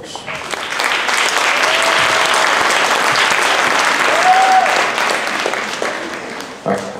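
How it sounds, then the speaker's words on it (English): An audience applauds the Lincoln Middle School 8th grade band at a school concert, a dense, steady wash of clapping that holds for several seconds at full strength, with a few cheers or whistles poking through. "Everybody's give them a round of applause."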